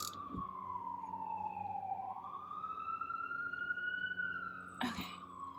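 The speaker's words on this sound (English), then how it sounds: "there's some sirens going on" A wailing siren sweeps up and down outside, loud and steady for several seconds, with a couple of sharp metallic clanks from a car steering-column job in the garage.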